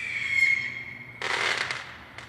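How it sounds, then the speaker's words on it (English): Fireworks at a distance: a faint whistling rise, then a burst of crackling pops fading out, with one more small crackle at the end. "Was that fireworks again?"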